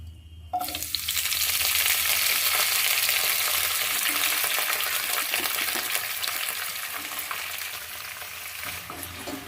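Loud, close sizzling as chopped bottle gourd greens hit hot oil with nigella seeds, then a steady frying hiss with scraping and stirring sounds throughout, no voices.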